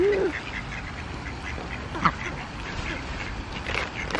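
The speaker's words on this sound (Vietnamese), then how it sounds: "Vịt con đang bò, cặp vịt mẹ đang bò tới." Ducks and ducklings quack steadily nearby in a busy, overlapping chorus, with a louder call near the start and a voice faintly heard underneath.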